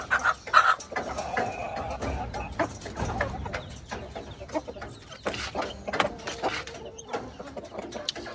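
Broody hens cluck in a poultry coop, with irregular close, fairly loud clucks and rustling scattered throughout.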